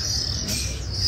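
A caged songbird in a bird market gives a brief, high chirping call, faint and close, over a light background hiss.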